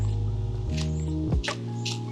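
A sprayer mists artificial flower petals, a loud steady mechanical drone underneath a few short hissing spray bursts, close by.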